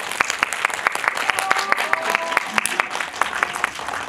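Steady applause from a cinema audience after a film screening Q&A in Seoul, many hands clapping continuously with a few louder individual claps standing out.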